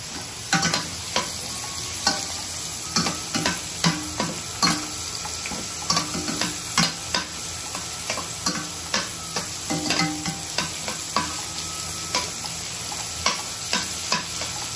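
Garlic and three large onions sautéing in a pan for beef lomi, a steady sizzle punctuated by repeated sharp scraping strokes of a spatula stirring, close and fairly loud with no voices.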